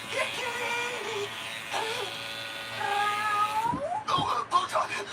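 A cat meows in a rising, wavering call, close by, with a person calling to it and other voices nearby.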